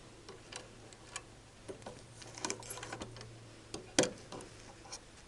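An older Singer Model 20 sewing machine stitches through two layers of quilting cotton, giving light irregular ticks and clicks at low level, with one sharper knock partway through.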